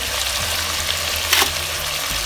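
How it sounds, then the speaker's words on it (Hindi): Chicken pieces fry in a pan for a nehari dish, a loud continuous hiss and crackle heard close, with a brief burst of stirring or spatter near the middle and no voices. "जब तक हमारा चिकन फ्राई होता है"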